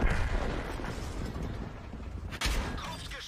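A tank's main gun fires in World of Tanks, a German-commentated Kpz 50t match, with booming blasts over a rumbling battle din and a sharp report near the end.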